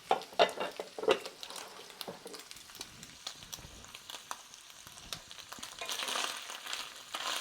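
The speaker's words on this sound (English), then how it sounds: "So I'm going to add a big knob of butter" Butter sizzles and spits in a hot frying pan, with a steady crackling hiss, scattered pops and a few scraping stirs, growing a little busier toward the end with no talking.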